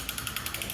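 Mechanical cranking of the adjustment mechanism on a deadlift jack, a rapid, steady train of light ratcheting clicks close by, with no talk.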